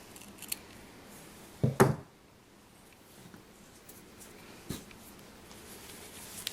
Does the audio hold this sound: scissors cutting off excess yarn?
yes